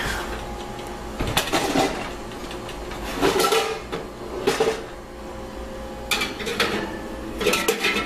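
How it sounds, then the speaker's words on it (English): Clanks and thuds of a lid going onto a pot roast and the heavy pot sliding into an oven, several metallic knocks and rattles spaced over a few seconds against a kitchen background hum. "put the lid on, and we will pop this baby in the oven"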